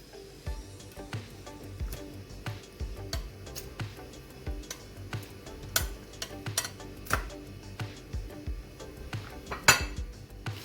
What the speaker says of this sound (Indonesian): Baru kita masukkan setengah kilogram ikan patin